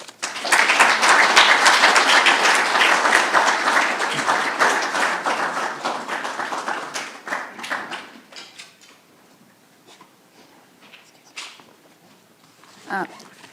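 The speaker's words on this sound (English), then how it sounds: "let's do one more round of applause for our speakers today" An audience at a Maryland ADA anniversary celebration applauds its speakers, loud sustained clapping that thins after about seven seconds into scattered claps and quiet room noise, with a brief louder sound near the end.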